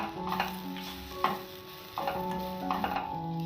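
Grated coconut stir-fried in a pan for Kerala-style red spinach thoran, with soft frying sizzle and a few scraping stirs of a spoon, quiet and close, no voices.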